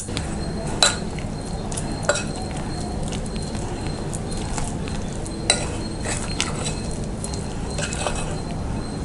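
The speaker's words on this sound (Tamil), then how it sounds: "இப்போ கொஞ்சம் கொஞ்சமாக தேவையான அளவு தண்ணி விட்டு பிசைஞ்சிக்கலாம்" Vegetable pakora batter kneaded by hand in a bowl as water is added, with soft wet squelching and occasional clicks of utensils against the bowl, close and steady, no voices.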